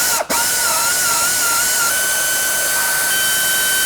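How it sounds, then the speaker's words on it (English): Air ratchet with a 19mm socket tightening differential mount bolts during a 6-inch lift install on a 2019 or newer RAM 1500, a steady loud high-pitched pneumatic whir with one brief gap near the start. "use your air ratchet here. Again, 19mm sockets."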